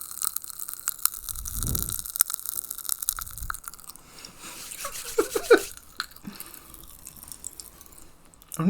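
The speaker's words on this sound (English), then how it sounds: "good old popping candy" Strawberry popping candy, a Turkish snack, crackles softly in a mouth while being eaten, giving faint, irregular close-up pops and fizzing ticks, with a few louder bursts in the middle and no talking.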